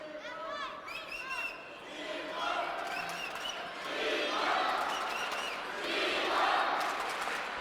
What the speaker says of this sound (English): Very rarely do we hear someone out cheering the Chinese fans in the crowd.